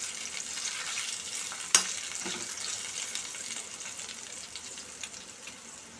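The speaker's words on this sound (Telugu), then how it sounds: "దీనిలో ఆయిల్ పోసుకొని చిక్కుడుగాయలు ఫ్రై చేసుకోవాలి." Broad bean pods frying in oil, a steady close sizzle that runs the whole time, with one sharp clank of a utensil early on and faint stirring after it, no voices.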